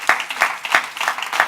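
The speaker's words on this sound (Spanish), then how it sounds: "Den un aplauso fuerte al Señor." A church congregation claps in praise to the Lord, five sharp, evenly spaced hand claps about a third of a second apart, loud and close over a low bed of crowd noise.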